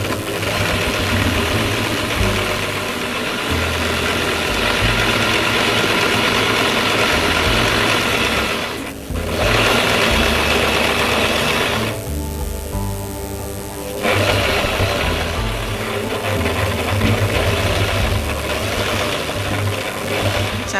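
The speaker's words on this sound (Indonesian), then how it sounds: "Setelah itu dijahit lurus." A sewing machine stitches a straight seam on a garment for a beginner lesson, running as a loud continuous motorized whir for about twenty seconds with two brief pauses partway through and no talk.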